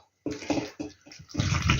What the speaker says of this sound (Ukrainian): Заляла бачите, усі баночки гарячою водою